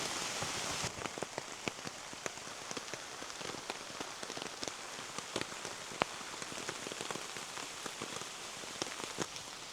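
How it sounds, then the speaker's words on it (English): Steady rain patters on two camping tents, the Vango Xenon 2 and 3FUL Taihang 2, in a dense, even hiss with scattered sharper drops tapping the fabric, faint and continuous with no talking. "And we're getting an unexpected rain test."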